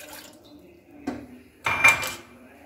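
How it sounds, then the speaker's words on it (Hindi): A cup of water is poured into a cooking pan in a home kitchen, giving a short metallic knock followed by a brief splashing rush, close and moderately loud, then quiet. "पैन में आपको डालना है एक कप पानी"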